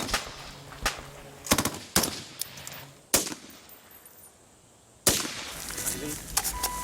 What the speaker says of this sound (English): Sharpshooters take aim. This time, it's shoot to kill.